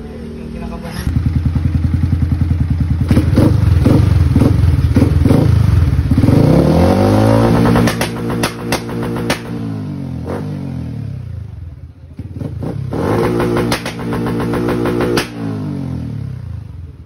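Motorcycle fitted with a UMA M9 Plus ECU tuned for backfire and launch control, revving hard near the mic in repeated bursts with sharp popping crackles through the exhaust, dropping briefly before another rev series.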